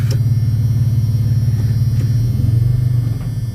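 A car with a Turbo 300 transmission idling in drive, with a faulty idle air control valve, gives a steady, close, low engine rumble with an even pulsing throb that dips slightly toward the end.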